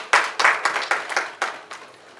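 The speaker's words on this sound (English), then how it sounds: "A round of applause and welcome, Reverend." Audience clapping to welcome a reverend at the launch of a mental health NGO: a sparse scattering of individual claps, moderately close and uneven, that thins out quickly.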